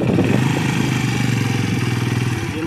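A Suzuki GS150 SE motorcycle engine fires up and settles into a loud, steady, close-up idle with a rapid pulsing thump and no talking.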